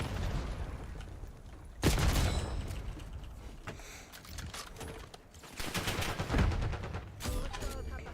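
Gunfire in Black Ops 6 hardcore on a small map, bursts of automatic shots and sharp reports scattered through a busy game soundscape, with voices in the background.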